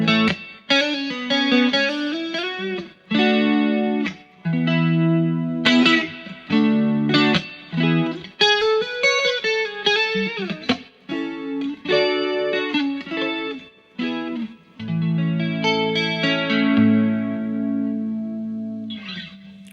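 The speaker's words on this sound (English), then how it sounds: "It is the Boss Chorus Ensemble" An electric guitar through a Boss Chorus Ensemble CE-5 chorus pedal, with subtle chorus shimmer over mildly driven chords and single notes. It plays steadily and loud with short gaps and a held, swelling final passage.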